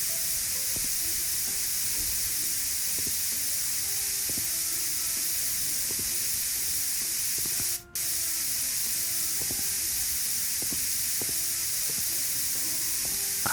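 A spray gun in the Builder Simulator video game hisses in a long, steady, loud burst as walls are painted, with one brief cutout midway and no talking.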